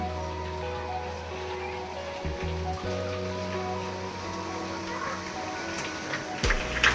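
Heavy evening rain pours down in a steady, dense hiss of drops on surfaces, continuous throughout with a low hum underneath and a brief louder patch near the end.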